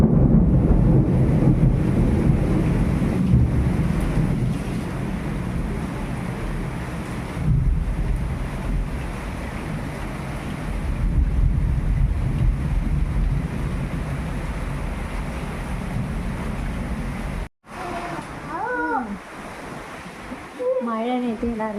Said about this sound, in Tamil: வெளியில் நல்ல மழை.